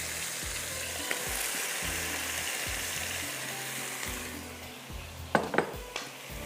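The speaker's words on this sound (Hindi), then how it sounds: "अब मैं इसको यहाँ पर ये डाल देते हैं आलू" Potatoes hitting a hot oiled pan for aloo karahi give a steady, loud sizzle of frying, with a few sharp metal clinks of a utensil against the pan near the end. No one speaks.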